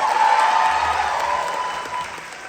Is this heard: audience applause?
yes